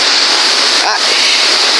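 Water roars steadily at the top of a waterfall on a nature hike, a loud, unbroken hiss of rushing water with a brief voice cutting in near the middle.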